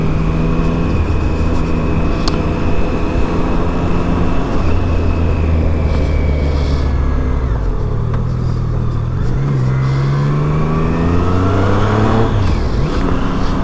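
Triumph Street Triple 660S motorcycle riding on the road, its engine a steady loud drone with rising and falling pitch as the rider shifts and accelerates, with wind noise throughout.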